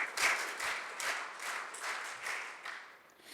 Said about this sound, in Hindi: एक बार वीर ताली उनके लिए बजाएंगे